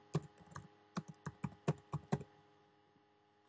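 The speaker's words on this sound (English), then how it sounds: "So I just type in the name of the song" A computer keyboard is being typed on: about eight to ten crisp, close key clicks in an uneven burst over two seconds, then near silence, with no talking.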